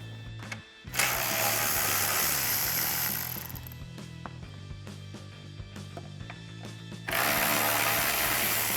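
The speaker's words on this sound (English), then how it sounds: "remove our 3 10mm mounting screws using our 10mm socket on our ratchet" A hand ratchet fitted with a 10mm socket backs out the headlight mounting screws on a Jeep Wrangler JL, its close, steady clicking pawl running in long bursts with a brief pause near the start and no talking.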